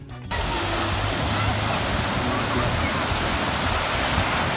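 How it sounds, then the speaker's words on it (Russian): Sea waves at a beach in Tijuana, Mexico, make a loud, steady roar of surf and wash that starts abruptly after a brief quiet moment and fills the whole stretch. "Как море? Море вообще прекрасное."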